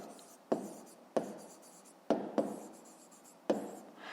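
A pen writes on paper during a fifth-grade maths exercise, close and quiet, with a run of scratchy strokes that each start sharply and then fade.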